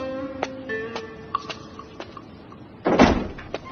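A temple door opens in an animated tale, a short woody burst of creaks and knocks near the end, following faint scattered tones and clicks over a quiet background.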